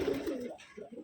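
A single young male Madrasi pigeon gives one short, close, throaty coo lasting about a second.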